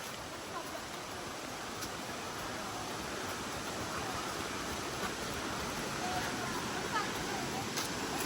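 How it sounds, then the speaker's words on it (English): Biausevu waterfall in Fiji, a steady broadband rushing roar of falling water that stays constant and fairly loud throughout, with faint voices beneath it. "There it is, the first sight of the waterfall."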